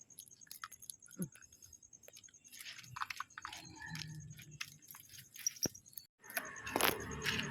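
A stray dog chewing a treat close up, with soft irregular crunches and mouth noises, someone talking gently in Thai in places, and a steady high electrical whine underneath.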